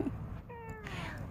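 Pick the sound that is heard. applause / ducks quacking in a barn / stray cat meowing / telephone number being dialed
stray cat meowing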